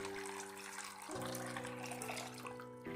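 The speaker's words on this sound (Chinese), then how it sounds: "然后往里面加入适量的清水，没过花生米" Tap water runs steadily into a bowl of raw peanuts, a soft continuous trickle and splash heard close up and alone, the pitch shifting slightly as the bowl fills.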